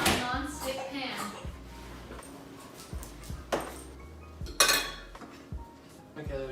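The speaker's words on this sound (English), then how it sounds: "You cut a non-stick pan." A knife and fork scrape and clink against a non-stick pan during a home cooking session, with sharp metallic taps and scratches spaced irregularly while people, including a child, talk over them.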